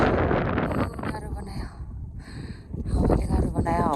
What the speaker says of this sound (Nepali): हावाले एकदम हान्दो रहेछ।